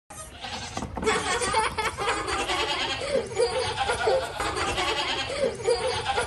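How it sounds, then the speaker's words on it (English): A goat bleats in a children's alphabet phonics song, a few wavering bleats standing out over a bright musical backing. "G for goat."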